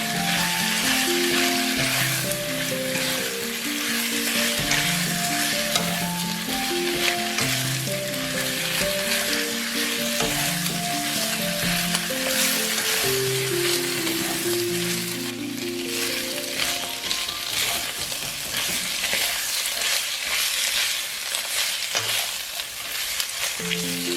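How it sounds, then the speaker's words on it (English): Bamboo shoots with pork belly stir-fry in a hot pan, with a constant close sizzle and frying crackle running the whole time beneath melodic background music. "Add the bamboo shoots and continue stir-frying for 2 to 3 minutes"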